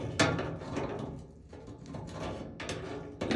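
Metal crescent wrench working a fitting on a gas heater, giving a few close clicks and scraping metallic knocks with short pauses between them.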